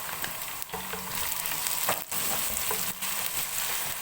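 Chopped tomato and green chilli fry in oil for vegetable pulao. The hiss is loud and close, and it briefly dips and scrapes as a spoon stirs the pan.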